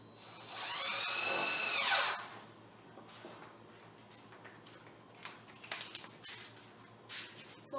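A power drill with a T25 bit drives a 2.5-inch screw into wood for an outdoor bench build, one steady whirring run of about two seconds followed by faint clicks and handling noises.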